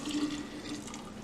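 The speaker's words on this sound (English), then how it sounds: "I'm going to take the water and sugar that we boiled, and I'm going to pour it directly" Boiled sugar water pours into a pitcher in a steady, close liquid stream with a faint ringing tone, lasting about a second with no talking.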